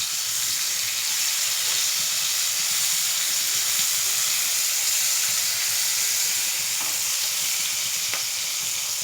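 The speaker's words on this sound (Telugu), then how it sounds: "బాగా బ్రౌన్ కలర్ వచ్చేలాగా ఫ్రై చేసుకుంటే బాగుంటాయి అన్నమాట ఆనియన్" Sliced onions deep frying in oil inside a pressure cooker for egg biryani, giving a loud, steady, dense sizzle with no other sounds.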